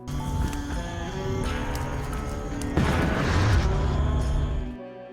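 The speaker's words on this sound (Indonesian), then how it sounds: "Suara dari ledakan itu ternyata terdengar oleh seorang sheriff bernama Hobbs yang kebetulan sedang berburu di area hutan di sana" A deep boom from an explosion in an action film, blasting a forest cabin, swelling into rumbling debris over a dense musical score and fading near the end.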